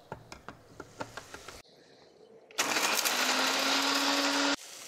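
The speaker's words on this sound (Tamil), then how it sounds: "மிக்ஸில் வச்சு திரிக்கிறோம்." A few light taps, a short quiet pause, then an electric mixer grinder grinding spices whirs loudly and steadily for about two seconds before cutting off.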